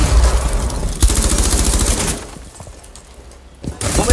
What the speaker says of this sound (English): Deploying C4. Kaboom!